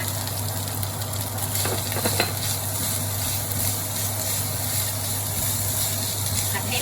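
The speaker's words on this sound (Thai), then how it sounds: "เราก็จะใช้กระเทียมลงไปเลยค่ะ ไปผัดรวมกันนะคะ" Garlic is stir-fried with bacon in a pan, a steady sizzle and a few stirring scrapes sitting over a constant low hum.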